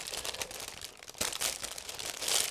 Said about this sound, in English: Even though it's a resealable plastic bag, it's a bit tricky to open